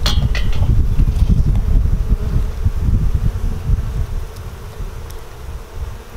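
A dense, steady buzzing of many honey bees at a hive, close to the microphone, continuous throughout with a droning low hum.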